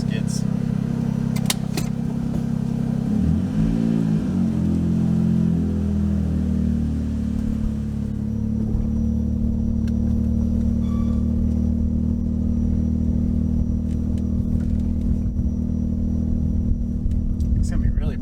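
A 1992 Suzuki Cappuccino's small engine hums steadily while driving, with a low rumble throughout and a brief rise in revs early on; a person talks over it.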